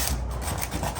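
Sandpaper rubs briskly back and forth over painted molding to smooth rough edges, a close, continuous raspy scratching with quick repeated strokes.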